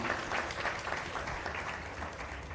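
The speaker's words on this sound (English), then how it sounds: "Big round of applause." Workshop audience giving a big round of applause at a sales masterclass, steady clapping from a crowd that carries through without a break, moderately quiet and slightly distant.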